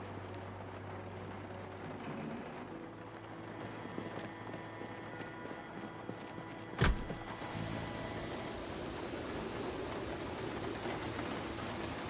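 Steady rain falling in the zombie survival game Project Zomboid, a constant soft hiss of drops with a brief sharp knock near the middle, faint and even throughout.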